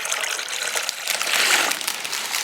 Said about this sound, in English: fill the whole of the cellophane and the centre of the box with water